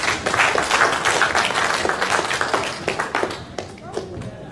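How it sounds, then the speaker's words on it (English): A church congregation claps in applause, strong at first and then thinning into scattered individual claps, with voices talking and calling out over it. "Let's give him a round of applause."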